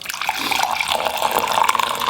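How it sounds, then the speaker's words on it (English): Freshly brewed pour-over coffee streams steadily from a server into a cup, a close, continuous liquid trickle with a rising gurgle as the cup fills, no voices. "All you have to do is pour it in a cup"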